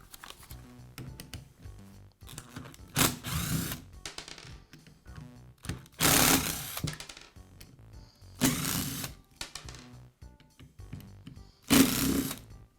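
A screwdriver or driver backs screws out of the rear handle of a Makita belt sander, giving ratcheting mechanical whirs in four separate bursts with quieter handling noise between them.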